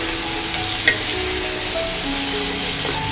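Cut potatoes and onions frying together in a little oil, a steady moderate sizzle with a faint light knock near the start and no talking.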